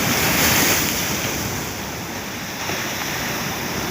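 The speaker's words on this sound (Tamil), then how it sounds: "கடல் அலையை பாருங்கள், எவ்வளோ வேகமாக இருக்குது." Sea waves surging at North East Point on Mahé in the Seychelles, a loud continuous roar of surf with wind buffeting the microphone and no pauses.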